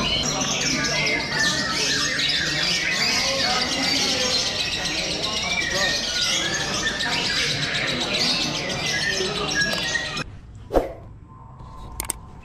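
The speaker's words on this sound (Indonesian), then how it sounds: "sambil membawa burung yang saya punya, yaitu ini kayaknya" Lovebirds at a bird gathering squawk and chirp in a dense, continuous chorus of many overlapping calls, loud and busy, before it cuts to near silence with a few brief knocks at the end.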